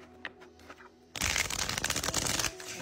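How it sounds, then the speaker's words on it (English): Tarot deck being shuffled by hand in a quiet room, a single loud riffling burst of rapid card flutter lasting just over a second, close to the microphone, preceded by faint soft taps. "Let's shuffle it first, of course."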